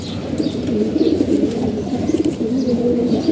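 Domestic pigeons coo in a steady, overlapping low murmur that carries through the whole short stretch, close by and fairly loud.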